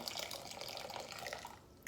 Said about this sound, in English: And then I'm gonna pour this hot, steaming water.